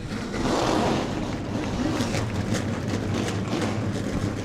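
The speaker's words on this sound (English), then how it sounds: "Gentlemen, start your engines." Race car engines fire up together at the start of the New Smyrna Governor's Cup racing event. A dense, rumbling roar rises quickly and holds steady, with pulsing revs throughout and no clear talk.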